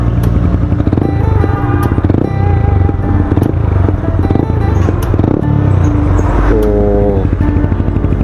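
Motorcycle fitted with an aftermarket Akrapovic exhaust idling and revving up close, a loud, throaty engine note that rises sharply near the end.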